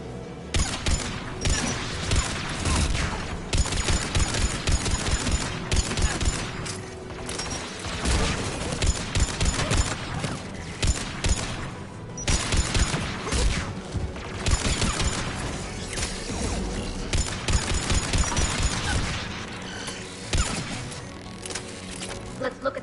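Anti-aircraft guns pound away in the Mass Effect video game, dense rapid thuds and clattering blasts running almost nonstop and loud, with battle noise and some voices mixed underneath.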